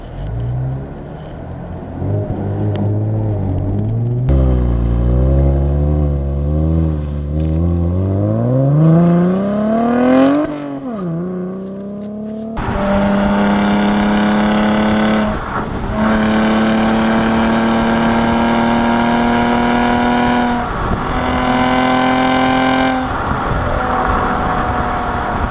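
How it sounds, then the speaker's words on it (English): A 2017 Chevrolet Camaro 1LE engine revs up through climbing tones, then settles into a loud, steady exhaust rumble with brief throttle blips, close and continuous. "Exhaust sounds pretty good."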